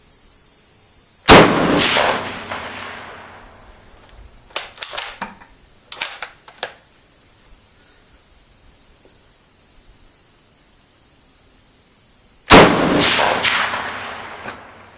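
Two loud, sharp rifle shots from a 1896 Swedish Mauser m/1896 in 6.5x55 with mid-range handloads, spaced about eleven seconds apart, each with a long rolling echo, separated by a few faint clicks of working the bolt.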